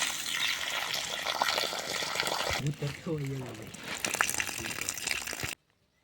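Water rushes and splashes steadily as urad dal is rinsed and drained, with a person briefly speaking midway before the sound cuts off abruptly.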